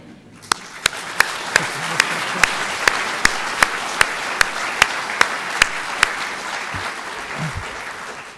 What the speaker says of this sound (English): If you want to live on the wild side and clap, you're allowed to clap.